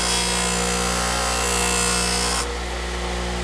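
A chisel bevel being stropped with buffing compound under very light pressure, heard as a steady loud motorised whir, likely a powered buffing wheel, that drops slightly in level partway through, with no talk.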